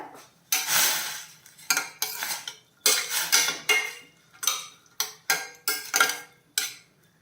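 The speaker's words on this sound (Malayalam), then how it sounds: "ഇപ്പം എല്ലാം കൂടെ ഒന്ന് മിക്സ് ചെയ്യാം" Chow chow being mixed with water and salt in a pot, a series of sharp metallic scrapes and clatters of a spoon against the pot in irregular bursts, close up and without speech.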